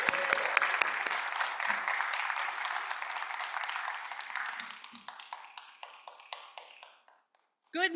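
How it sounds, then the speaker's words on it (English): An audience at a secular summit conference applauds a speaker taking the stage, a broad wash of many hands clapping that thins into a few scattered claps before falling silent. "let's give Dianne Post a round of applause"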